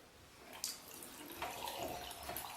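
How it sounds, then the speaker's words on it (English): Faint drips fall from a cold tap that is turned off, leftover water trickling from the pipes into a sink in a quiet room, with a few soft splashes. "See the cold tap there is off, it's just little drips there from what's left in the pipes."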